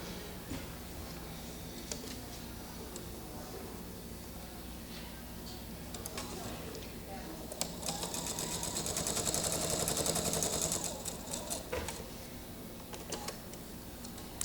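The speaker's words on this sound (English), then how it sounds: "Now this is just a straight sew" A sewing machine runs a straight seam on quilt pieces, a faint mechanical whir with light ticking that builds into a steadier, louder run midway before easing off, heard close in a quiet room.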